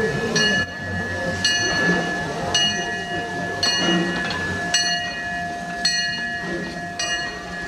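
An old steam train on the Disneyland Railroad waits at its station, with a steady mechanical hum and hiss and a bright ringing tone repeating at regular intervals over a busy ambient background.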